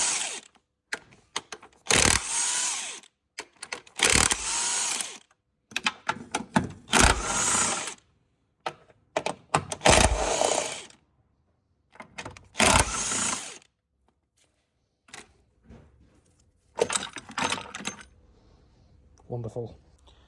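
A ratchet spanner works loose the 15mm top engine mount bolts on a Vauxhall Insignia 1.8, giving intermittent bursts of rapid metallic clicking with pauses between, fairly close.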